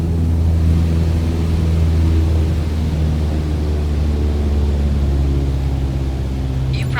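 A Cessna 152 in Microsoft Flight Simulator with its engine throttled back to about 1,800 RPM, a loud, steady propeller drone and hum running throughout with no talking.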